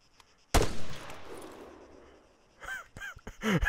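A pistol shot cracks out in ARMA 3, a sharp loud report followed by a decaying echo, then several shorter clicks and bursts toward the end.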